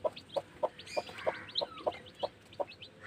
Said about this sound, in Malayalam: കോഴിക്കുട്ടികൾ, കോഴിക്കുഞ്ഞുങ്ങൾ വിരിഞ്ഞു.